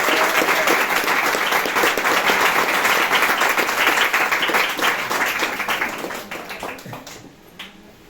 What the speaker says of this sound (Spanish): Si le va a aplaudir, apláudale con fuerza, hermano.